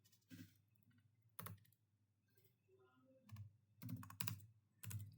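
Keys clatter on a computer keyboard while someone types code, coming in short bursts of close, crisp clicks separated by quiet pauses, faint overall and with no talking.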